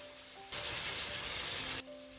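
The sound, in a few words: tomatoes, garlic and chilies cooking on high heat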